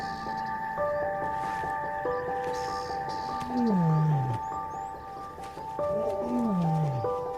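Lion in Luangwa Valley calling in the still morning air, two deep descending moaning roars over a steady background of birds and insects, fairly close and loud.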